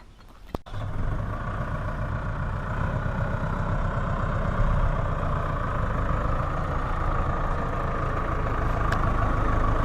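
An imported Landini Powerfarm 100 tractor of about 4 tons idles close by, a steady, loud, low diesel rumble that runs unbroken the whole time after a brief knock near the start.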